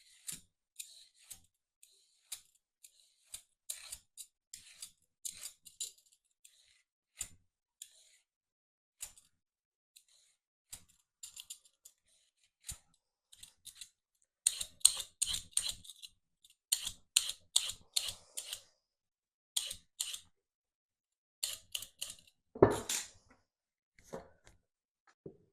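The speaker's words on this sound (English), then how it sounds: "now I'm going to peel them, just with an ordinary potato peeler" Parsnips scraped with an ordinary potato peeler: repeated short, crisp scraping strokes in irregular bursts, denser and faster midway, close and fairly quiet with no talking.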